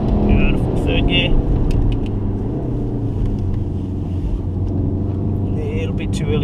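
A VW Golf R pulls hard in third gear around a track at Wakefield, its engine a continuous loud rumbling drone with mechanical rattles, while a voice talks over it.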